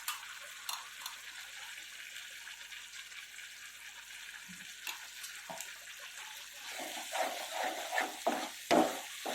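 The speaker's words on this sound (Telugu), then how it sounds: "ఇలా అంటుకోకుండా తిప్పుతూ ఉండాలి." Coconut burfi mixture with ghee being stirred in a pan, a quiet scraping and shuffling that grows busier near the end, with faint sizzling in the background.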